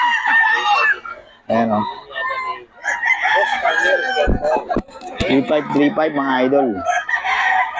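Roosters at a Bocaue tiangge poultry market crow loudly and repeatedly at close range, overlapping one another, while someone talks over them.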